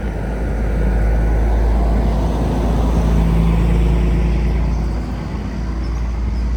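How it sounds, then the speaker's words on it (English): A truck passes by on a road, a steady low rumble with broadband roar that swells and holds for several seconds, then eases slightly near the end. "we'll wait for this truck to pass."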